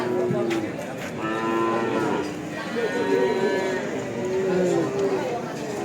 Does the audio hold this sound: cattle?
yes